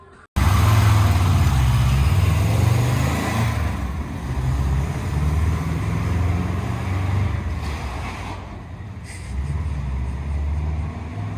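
A repaired car engine drones on a test drive, starting abruptly and loud, with a steady low rumble and a rushing wind-like noise that dips and swells throughout.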